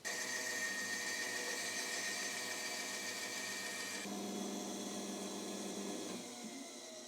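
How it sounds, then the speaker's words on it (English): Bandsaw cutting a piece of timber for a workbench clamp, a steady loud machine whine with a continuous cutting drone that shifts tone partway through and eases slightly near the end, no talk. "And to do that, I'm going to be using my bandsaw."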